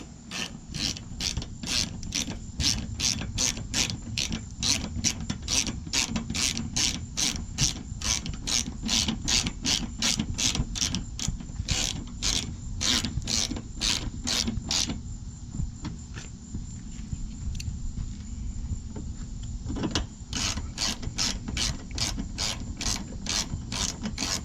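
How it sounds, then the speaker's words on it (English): A hand ratchet clicks in rapid, steady bursts while driving the top bumper cover screws back into a Toyota Camry, close and dry, with a brief pause midway before the clicking resumes. "we're gonna put these top bumper cover screws back."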